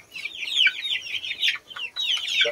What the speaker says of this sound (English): We are loaded with chicken.